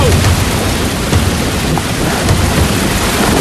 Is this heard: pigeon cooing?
no